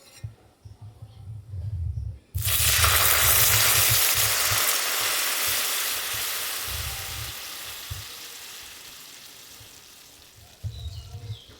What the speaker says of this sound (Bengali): ওর মধ্যে যেহেতু ঘি ছিল যার জন্য ওরকম আওয়াজ হলো